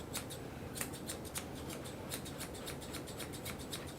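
Scissors snip through a dog's wet coat during grooming, giving a quick run of faint, close clipping sounds over steady background hiss, with no talking.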